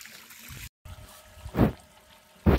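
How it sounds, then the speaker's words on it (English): Water drains from a vintage acetylene generator in short trickling, splashing bursts separated by brief pauses, fairly close and moderately loud. "I've got to change the water in the acetylene generator every time I put new carbide in it."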